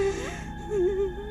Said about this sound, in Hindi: कि तभी रूम से रोने की आवाज़ आती है।